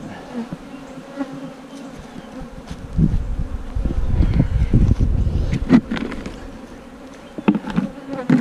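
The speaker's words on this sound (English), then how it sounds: "These bees here" Honey bees buzzing around two-frame mating nucs outdoors, a dense continuous drone of many insects close to the microphone, swelling louder midway, with some wind noise.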